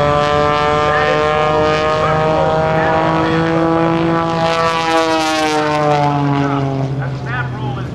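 Patty Wagstaff's aerobatic propeller airplane drones loudly and steadily through a routine at the 2006 NAS Oceana airshow, its engine pitch sliding up and down as she maneuvers.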